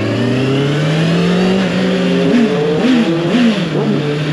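A 2023 Honda CBR 650R motorcycle engine hums steadily up close, then revs in several quick rising and falling bursts, the throttle blipped repeatedly over a sustained, loud drone.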